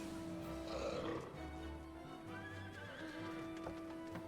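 Horses in the game FFXIV: Heavensward whinny and neigh in drawn-out calls over rhythmic hoof clip-clops, fairly quiet and set against a low game soundscape with no talking.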